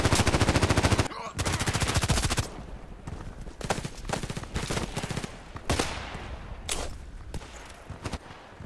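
Rapid automatic gunfire from a small, high-fire-rate Escorpiao gun in the first-person shooter Contract Wars, with a dense sustained burst at the start, then shorter bursts and single loud shots through the rest.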